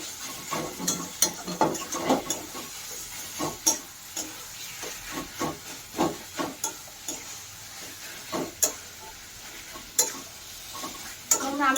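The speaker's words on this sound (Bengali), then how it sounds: "চিনিটা দিয়েও দিয়ে আমরা আবারও আগের মতন মিলিয়ে নেব" A spoon scrapes and stirs repeatedly in a pan, mixing sugar into a sizzling curry of Ilish fish head and taro leaves, with irregular clinks over a soft frying hiss.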